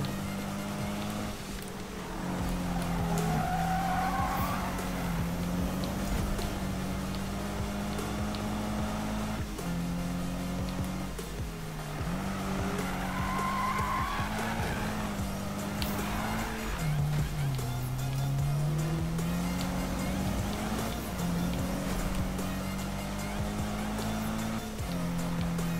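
A car drifting in the Need for Speed video game gives a sustained engine drone with rising and falling whines throughout, steady and fairly loud, while a player talks now and then.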